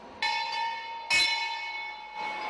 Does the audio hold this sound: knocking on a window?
no